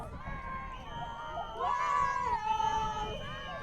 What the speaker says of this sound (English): We can hear quite a loud cheer on the sideline coming from New South Wales.